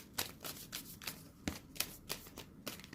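Tarot cards are shuffled by hand in a quiet room, a steady series of soft riffling and slapping bursts at close range.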